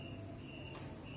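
A cricket chirps faintly and continuously against a steady hiss of background noise, with no voices present.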